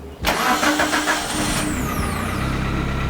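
Vehicle engine cranks and catches after a brief quiet moment, then settles into a loud, steady idle close by, with no talk over it.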